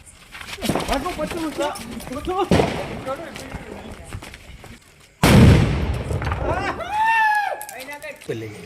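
Sharp, loud firecracker bangs burst out at several moments during Diwali, one especially heavy near the middle, while people talk and call out excitedly around them.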